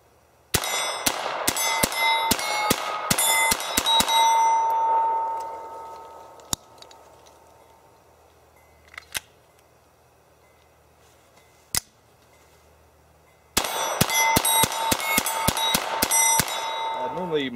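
A Ruger Mark III 22/45 pistol fitted with a red dot fires at a range in two fast strings of sharp, ringing shots. A few isolated pops and a quiet pause fall between the strings.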